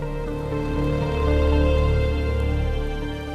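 Steady rain falls outside a house, a continuous soft patter with a slight swell in the middle, heard alone with no talk.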